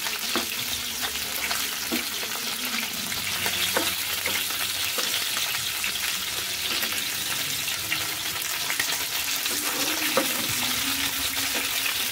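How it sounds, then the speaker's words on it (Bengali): Fish frying in a pan in a home kitchen fills the whole stretch with a steady, fairly loud crackling sizzle, with occasional sharper pops and clicks from turning or stirring, and no talk. "এই সাইডে মাছ ভাজা করে নিচ্ছি।"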